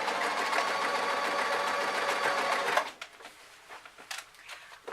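Sewing machine stitching a shoulder band on an elastic formal top, running in a steady fast whir for about three seconds, then stopping, followed by faint clicks and handling noises.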